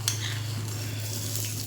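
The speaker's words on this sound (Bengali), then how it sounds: "এবার এর মধ্যে আমি একটু ঘি দেবো সামান্য।" A little ghee sizzles in a hot kadai on a gas stove, a brief steady hiss with a low hum beneath it and no voices.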